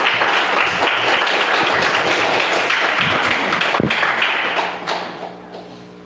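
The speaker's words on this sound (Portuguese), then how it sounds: "Uma salva de palmas aos nossos pequenos" Congregation applauding young children at a church gathering, a dense wash of clapping and a few thumps that stays loud for about four seconds, then thins and fades out.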